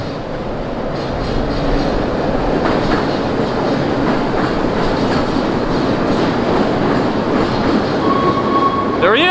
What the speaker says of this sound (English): The Chicago L train, there's one that's decked out in holiday colors.